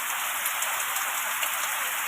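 Heavy rain pours steadily in a stormy downpour with wind, a dense continuous hiss of drops on surfaces, close and even throughout with no talking.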